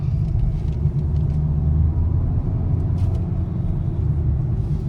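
Kia Seltos 2026 engine heard from inside the cabin, a loud steady low rumble held at high revs for several seconds, no talk.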